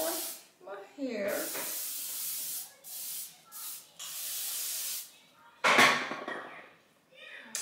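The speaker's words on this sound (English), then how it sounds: "I'm just gonna spray some of this on my hair." Several bursts of hairspray hiss in quick succession onto hair, one longer blast near the end, with brief pauses between sprays.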